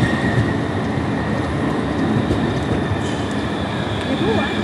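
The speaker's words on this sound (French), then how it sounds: "ça c'est le métro sur la partie aérienne." A Seville metro train rolls steadily along an elevated section with rumbling wheels, faint squeals and a high electrical whine, heard from on board.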